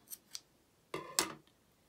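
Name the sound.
scissors cutting yarn after fastening off crochet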